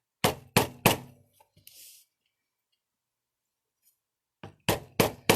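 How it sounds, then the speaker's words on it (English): Three sharp, close taps of a small hammer on book signatures ring out in quick succession, then a long quiet stretch, then another burst of four taps. "So this is just a little tap. Little tap."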